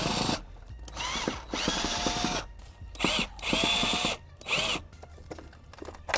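A power drill backs screws out of a Hunter X-CORE sprinkler irrigation controller box in several short whirring bursts separated by brief pauses, heard up close.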